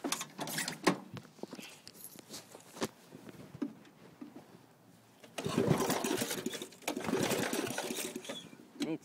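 A racing tractor engine cranks and settles into a fast, rough idle, a buzzy mechanical chatter that surges louder partway through after a quieter stretch, heard close with no talking.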